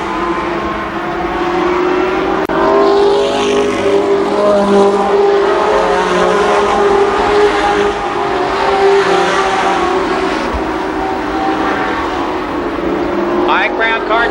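IMCA Modified race cars roar around Columbus Motor Speedway in a 1993 feature, a steady loud drone of several engines running close by, with an announcer talking over the pack throughout.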